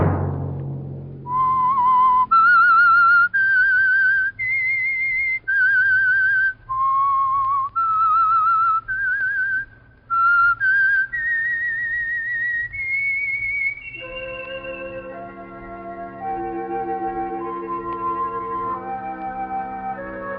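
The Whistler radio show theme is whistled as a lone, clear melody of sustained notes rising and falling, followed by a soft orchestral chord backing.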